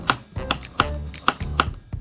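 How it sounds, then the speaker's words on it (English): Knife chops through carrot on a cutting board, about five sharp, evenly spaced thuds over two seconds, close and clear with no talking. "Peel and dice the carrot."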